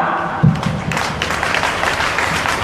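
An audience at a Gau Katha gathering breaks into steady, fairly loud applause to welcome a speaker. The clapping builds after a short start and carries on continuously.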